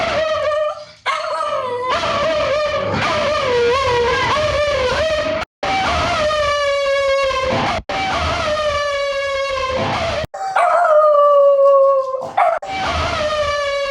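Electric guitar played through a Bogren Digital Ampknobs Fatman amp simulator, producing long sliding howls with rich harmonics that mimic a dog howling, several sustained phrases separated by brief gaps, loud and close.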